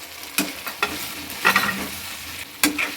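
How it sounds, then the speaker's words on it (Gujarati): Fried paneer is stirred into a sizzling pan for restaurant-style dry chilli paneer. A continuous sizzle runs under four or five sharp scraping stirs, each one loud and close, and no voice is heard. "હવે આપણે પનીર ફ્રાય કરેલું આની અંદર એડ કરી દઈશું।"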